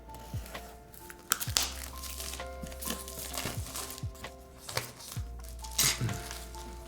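A keycap set is unboxed, with packaging crinkling and plastic clicking and clinking close up in irregular bursts against a quiet room.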